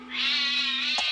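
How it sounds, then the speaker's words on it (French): A single drawn-out cat meow, loud and close, rising and holding before ending with a brief soft break. "Ah, un chat rouge!"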